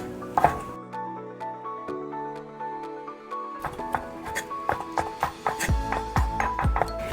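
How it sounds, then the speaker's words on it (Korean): Vegetables cut into 2–3 cm lengths with a knife against a tonal music bed; after a quiet start comes a run of crisp, evenly spaced chopping taps, close and clear, which grow faster toward the end. "마찬가지로 한 2, 3cm 정도 길이로 잘라줍니다."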